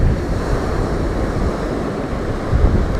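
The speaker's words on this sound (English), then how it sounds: "Every once in a while you get these lunker waves come over." Big sea waves wash over on a coast where people fish for sea-run trout, a loud continuous surf roar mixed with wind buffeting the microphone, no talk.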